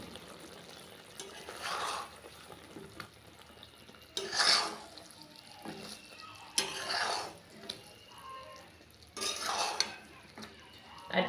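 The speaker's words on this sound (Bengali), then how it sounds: "এইভাবে একটু রসে নাড়াচাড়া করে দিচ্ছি" A spoon stirs flour-and-sugar sweets through thick sugar syrup in a pan, producing repeated scraping and sticky sloshing strokes in bursts, close and moderately loud, with no talking.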